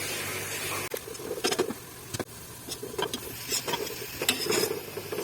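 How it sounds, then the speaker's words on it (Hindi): Onions frying in a pan for daleem while being stirred, a steady close sizzle broken by irregular scraping and clinking strokes of the spoon, with no talk. "प्याज़ों का ख़ास ध्यान रखना है कि बहुत ज़्यादा जल ना जाएं और कच्चे भी ना रहें।"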